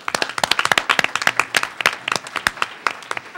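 An audience at a STEM symposium applauds, a dense burst of many hands clapping close and loud, sustained without pause for several seconds.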